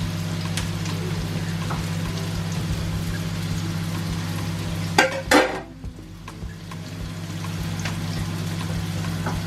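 Onion and asparagus fry in a hot pan with a steady sizzle, broken midway by a short burst of clatter and stirring, then the sizzle settles back; no talk.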